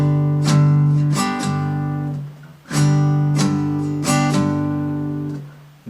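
An acoustic guitar chord is strummed down-up-down-up without muting, so each ringing strum sustains into the next. The bright strums come in repeating groups, close and loud, with no talk.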